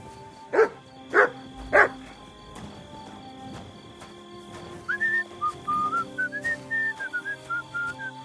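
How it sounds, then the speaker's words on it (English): A dog in the video game Kingdom Come: Deliverance II gives three loud, evenly spaced barks, then falls quiet as a bright, warbling whistled tune rises and carries on to the end. "You silly doggy."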